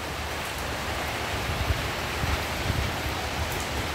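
Rain falling amid gusting wind outdoors, a continuous broad hiss with soft low rumbles, steady and fairly near, with no voices.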